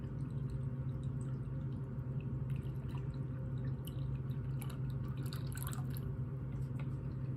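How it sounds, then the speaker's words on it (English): Corona beer runs through a kitchen strainer for hot process soap making, dripping and trickling softly over a steady low hum, close by and continuous. "I like to strain it through just to make sure so I don't get any clumps in there"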